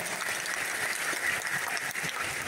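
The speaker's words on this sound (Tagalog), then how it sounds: "tinapigsa nga palakpak para kina Apo Diyos" Strong, dense applause from a crowd at a typhoon relief aid distribution, continuous and loud throughout with no pauses.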